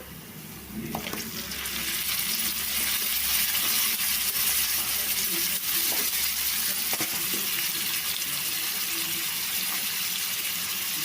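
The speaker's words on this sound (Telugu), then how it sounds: "ఉల్లిపాయ ముక్కలు చక్కగా ఫ్రై అయ్యాయి కదా ఇప్పుడు నానబెట్టి ఉంచుకున్న ఈ ఒట్టి చేప ముక్కలు వేసుకోవాలి" Soaked dried fish pieces dropped into hot oil with fried onions, a loud steady sizzle and bubbling that rises after the first second and continues with occasional stirring scrapes and clinks.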